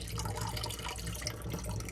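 Water sloshes and drips steadily as it is poured off cleaned fish in a container, a continuous wet trickle with no voices.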